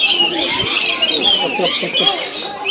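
Shrill squawks and chirps from a cockatiel or lovebird at Assam State Zoo, close and loud, coming in bursts with brief gaps between calls.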